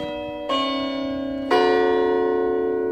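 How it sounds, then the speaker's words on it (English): Church bells chime loudly nearby: two strikes a second apart, each ringing with a rich, sustained metallic tone that lingers and blends into the next, with no talking. "I'll continue after these chimes."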